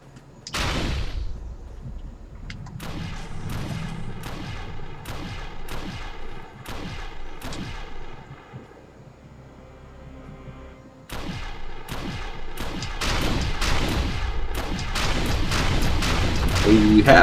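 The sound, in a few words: mass cannon firing in the video game Defiance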